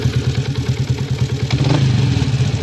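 A Yamaha Sniper 150 motorcycle engine idles with a worn stock cam chain tensioner, giving a loud, close, steady rhythmic clatter and rattle over the engine's low throb.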